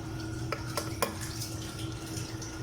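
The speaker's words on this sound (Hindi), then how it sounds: "अभी ये मसाले भी इसमें मैं ऐड करूँगा" Spices being added and stirred into a pressure cooker for a black chana dish, with a few light clinks of a utensil against the metal pot over a low, steady kitchen background, and no talking.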